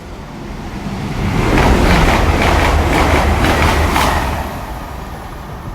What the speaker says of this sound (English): So you got another true train coming in, 91253.